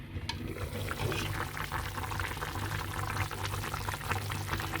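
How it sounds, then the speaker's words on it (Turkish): A pot of stuffed dolma boils steadily, with continuous bubbling and a low simmering hum, close by and unbroken for several seconds. "Dolmalar güzelce kaynıyor arkadaşlar."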